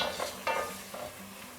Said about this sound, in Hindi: खड़ा मसाला अच्छी तरह भून चुका है